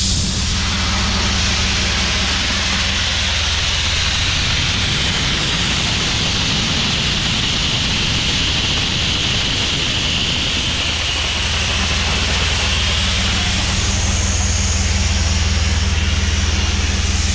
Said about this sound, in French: je vais pas l'arrêter non plus parce que le volant moteur il est un peu naze